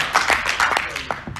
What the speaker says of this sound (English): Everybody start clapping.